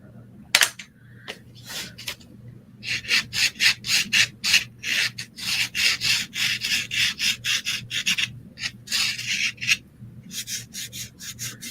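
A gray pastel is rubbed and blended over a lemon painting: close, dry, rasping strokes come in quick rhythmic bursts after a lone scrape, with short pauses between runs of strokes.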